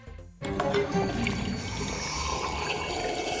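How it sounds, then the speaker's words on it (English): A broken toilet flushing in the video game Shadows Over Loathing: a sudden loud rush of swirling water starts after a brief quiet moment and keeps gurgling steadily to the end, close and unaccompanied by talk. "that toilet sounded like it was dying"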